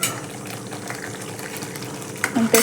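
Hot water poured into a simmering vegetable curry in Khandeshi style, a steady gushing fill running at close range and swelling louder with splashes near the end.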